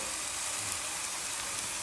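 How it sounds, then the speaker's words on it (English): Steak searing in a hot pan gives a steady, even broadband sizzle, moderately loud and close, with no talking over it. "you want to hear the sizzle"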